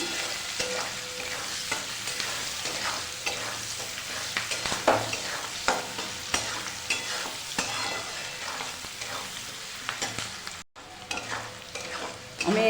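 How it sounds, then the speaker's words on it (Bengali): Onions and green chillies frying in a pan over high gas, a continuous bright sizzle with repeated spatula stirring scrapes and clicks, close and fairly loud, with no talking. "পেঁয়াজ কাঁচা লঙ্কা দিয়ে দেবো হালকা করে ভেজে নেব আমি গ্যাসের জোর হাইতে দিয়ে রান্না করছি"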